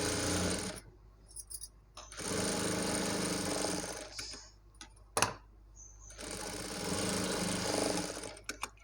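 A sewing machine stitches lining cloth onto the main fabric of a baby frock in several steady bursts of whirring, separated by short pauses with light handling clicks and one sharp knock.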